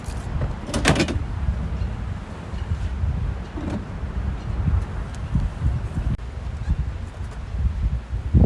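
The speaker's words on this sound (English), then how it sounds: "It's a windy one today, guys" Gusty wind blows outdoors around a parked car where a Coleman camp stove is being set up, a steady low rumble of buffeting against the microphone with a few brief knocks and rustles.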